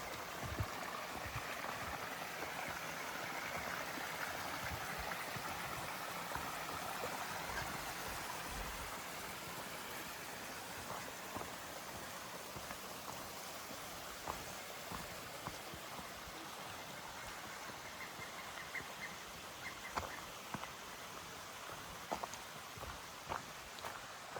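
Continuous rushing water, like a stream spilling over rocks along the Appalachian Trail, fills the scene with a steady hiss and no voices.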